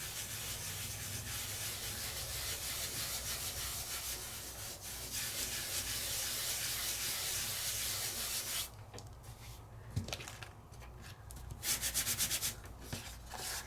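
Fingers rub and burnish die-cut paper layers pressed together, making a steady, close, dry scrubbing hiss that runs continuously, then breaks into shorter strokes and scuffs toward the end.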